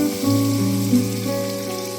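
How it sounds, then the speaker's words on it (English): Steady sizzling of bacon frying in a pan, a continuous close crackle with no voices. "So I am frying up the bacon"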